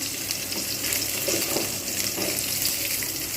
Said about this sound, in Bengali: আমি অল্প তেলেই ভাজছি